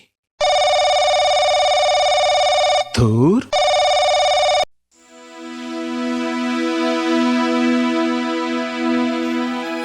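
Telephone bell ringing loudly and steadily in an animated drama, breaking briefly, ringing again and then cutting off abruptly, followed by a fading musical tone and a short spoken exclamation.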